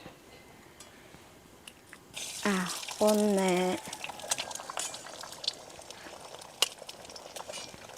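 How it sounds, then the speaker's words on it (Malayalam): Four hen eggs cracked into well-heated oil for a spicy onion and egg fry: a quiet start, then a sudden loud sizzle that keeps crackling. A voice briefly counts partway through. "എണ്ണ നല്ലപോലെ ചൂടായ ഇനി നമുക്കൊരു 4 കോഴിമുട്ട അങ്ങോട്ട് പൊട്ടിച്ചങ്ങോട്ട് ഒഴിക്കാം"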